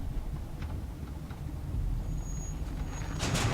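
A vehicle in The Walking Dead video game rumbles along roughly, a continuous low engine drone with faint clunks and a brief high whine, then a burst of noise near the end, with no talk.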